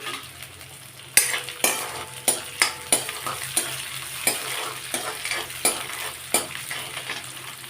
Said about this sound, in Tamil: எல்லாம் சேர்ந்து நல்லா நமக்கு வறுத்து கிடச்சிடும்